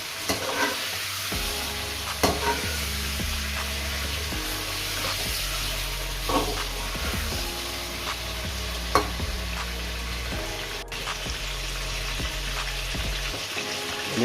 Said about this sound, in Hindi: इधर हमारा जो है वो चिकन फ्राई हो रहा है